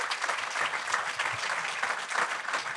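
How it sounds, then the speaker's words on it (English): Sustained applause from an audience clapping for the event hosts, a dense steady patter of many hands held at an even level for the whole stretch. "Please give them a round of applause"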